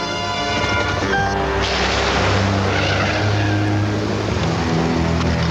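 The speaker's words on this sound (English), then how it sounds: "Start the car!" A car engine roars loudly and continuously as the vehicle drives off, harsh revving tones with tire noise and a dense rushing wash, close and sustained, with no voices.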